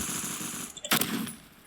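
Sturmgewehr rifle in the video game Phantom Forces fires a quick close burst, a sharp loud crack with a short tail, against steady game background noise.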